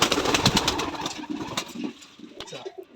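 Pigeons at a pigeon farm in Rajshahi coo and flutter close by, with dense bird activity that thins toward the end, and a faint engine idling in the background.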